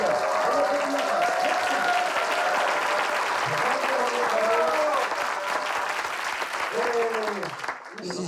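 Audience applause at a ceremony where participants are named one after another, a steady dense clapping that fills the whole stretch, with a voice speaking over it in places and the clapping easing off near the end.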